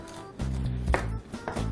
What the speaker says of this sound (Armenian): շատ մանը չեն կտրատում